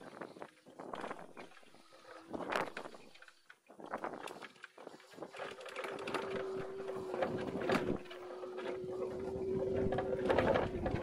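GT X11 Pro electric scooter motor whining under load while climbing a steep hill, a rising tonal hum that starts intermittently amid wind and rustle, then holds steady and grows louder toward the end.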